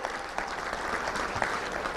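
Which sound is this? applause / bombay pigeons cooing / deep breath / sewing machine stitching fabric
applause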